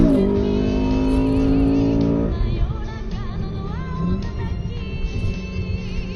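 A Honda Accord CL7 with a K20A VTEC engine revs hard, a loud, sustained engine note that climbs and then drops off into a lower, rougher drone, close and alone without talk.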